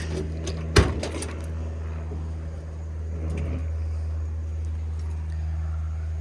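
The trunk lid of a 1976 Dodge Dart Swinger Special pops open with one sharp latch clunk near the start, followed by faint handling noises over a low steady hum.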